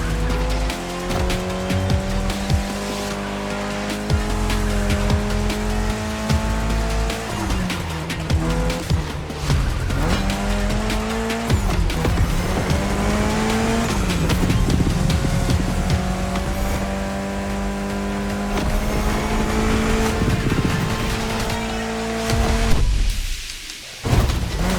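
Race cars roar and tires squeal throughout a race in The Crew Motorfest video game, with steady engine tones rising and shifting in pitch, loud and continuous until a brief dip near the end.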